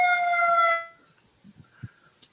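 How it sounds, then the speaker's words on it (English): An ambulance siren outside wails as a steady, harmonically rich tone for under a second before cutting off abruptly, leaving faint scattered clicks and low bumps. "let me mute this fucking ambulance"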